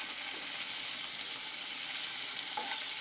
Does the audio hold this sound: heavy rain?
no